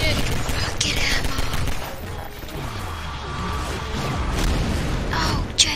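Gunfire and crashing impacts from Half-Life 2 co-op played in Gmod, with bursts of rapid shots and metallic clatter in a dense, busy game mix.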